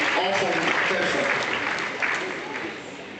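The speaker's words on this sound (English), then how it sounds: "I think we should clap for that." A crowd at a university convocation ceremony breaks into loud, sustained applause that fills the hall and slowly fades toward the end, with a voice speaking faintly underneath.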